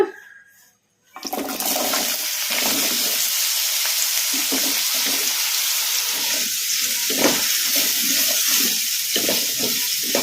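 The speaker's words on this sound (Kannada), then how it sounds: "ಈಗ ಇದಕ್ಕೆ ನಾವು ಕಟ್ ಮಾಡಿ ಇಟ್ಕೊಂಡಿದ್ವಲ್ಲ ಆಲೂಗಡ್ಡೆ, ಈಗ ಇವನ್ನ ಹಾಕಿ ಫ್ರೈ ಮಾಡ್ಕೊಂಬಿಡೋಣ." Cut potatoes drop into hot oil in a kadai and erupt into a loud, steady hissing sizzle that carries on without a break, with a few scraping clinks as they are moved about.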